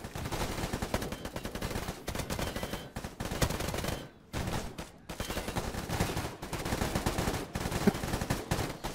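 Rapid AK rifle fire in S.T.A.L.K.E.R. GAMMA: loud, close automatic bursts rattle almost continuously, broken by a short pause midway.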